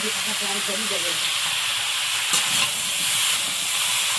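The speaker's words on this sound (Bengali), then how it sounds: "এখন এটা ভালো করে একটু কষিয়ে নিতে হবে" Potatoes and tomatoes are stirred and sautéed in a pan, with a steady loud sizzle and hiss filling the whole stretch and a faint scrape partway through.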